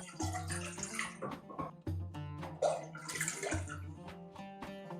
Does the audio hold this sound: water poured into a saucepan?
yes